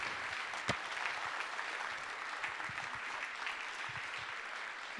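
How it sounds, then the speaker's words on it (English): Standing audience applause at a 1 Million Cups entrepreneurs' meeting in North Dakota: steady, dense clapping from a room full of people, continuous and even throughout with no speech over it. "Let's give them a round of applause."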